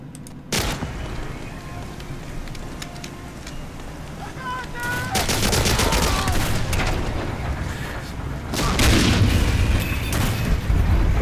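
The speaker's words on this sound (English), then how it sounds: "I'm hitting him directly with the Flak 88" A Flak 88 gun in Medal of Honor: Allied Assault Spearhead, set in Berlin, fires repeated heavy booming blasts with crackling tails, loud and close, partly over a voice.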